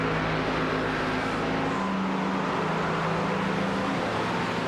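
A Ford Mustang race car in the iRacing sim at Road Atlanta makes a steady, unbroken engine drone with a constant hum and no pauses.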